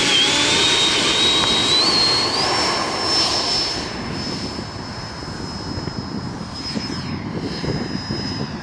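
Electric-ducted-fan Freewing RC model airplane taking off from rough grass, a loud steady whine rising in pitch as power is added, then holding a high sustained tone as the plane climbs away, with no voices.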